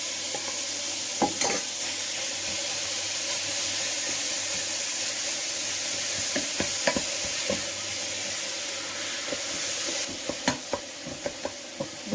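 Mushrooms and shallots cooking in butter in a pan, a soft continuous sizzle with occasional scraping stirs and clacks of a utensil, fairly quiet and close, no voices.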